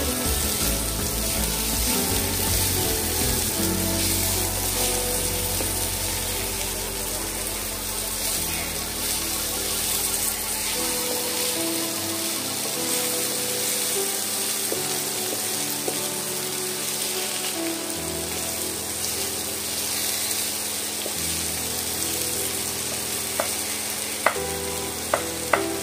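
Potatoes fry in a pan for a crisp dish, a continuous hissing sizzle close by with occasional stirring scrapes and a few sharp clinks near the end, no voices.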